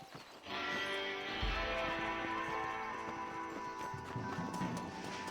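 Horse being broken in a Red Dead video game: steady hoofbeats and snorting over a continuous game music bed, loud and close throughout.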